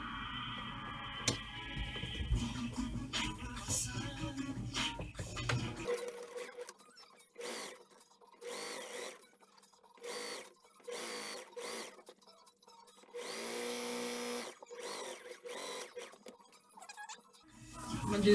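A sewing machine back stitches a seam on a dashiki. The stitching comes in short, rhythmic bursts with brief gaps between them, close and moderately loud, after a stretch of rustling handling.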